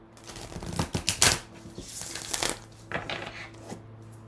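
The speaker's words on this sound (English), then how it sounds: "We'll give these cards a shuffle." Tarot cards being shuffled up close, a cluster of quick riffling snaps and papery flutters that bunch into bursts and then taper into softer slides over a faint low hum.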